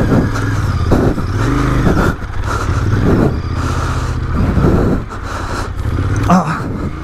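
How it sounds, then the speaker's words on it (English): A dirt-capable motorcycle, an XPulse 200 or Royal Enfield Interceptor 650, labors along a rocky trail near Gurgaon, its engine loud and close with repeated revving surges and dips as it climbs over rough ground. "Good thing is this motorcycle has the torque to pull me out of situations."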